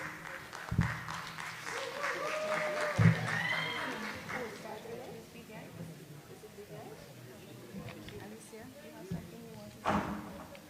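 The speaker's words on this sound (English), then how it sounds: "please give our lovely ladies a round of applause" Scattered applause from an audience at a community forum for an Emancipation Festival, quiet and fairly distant, with a few louder knocks and bumps and some talk in the room mixed in.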